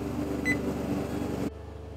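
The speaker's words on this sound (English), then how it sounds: "All right, timer's going off." Kitchen timer beeping during a beef short rib cook on an Old Country BBQ gravity-fed smoker, a few short electronic tones over steady background hum, then cutting off abruptly.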